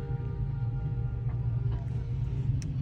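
A car's engine idles steadily while the vehicle sits raised on a jack in a workshop, a continuous low rumble with no talk over it.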